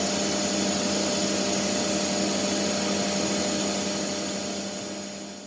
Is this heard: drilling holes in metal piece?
yes